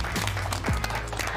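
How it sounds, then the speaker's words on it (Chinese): Applause at an office meeting welcoming several new colleagues to the personnel department gives a moderate burst of scattered clapping that runs through the whole moment. "咱们掌声欢迎他们。"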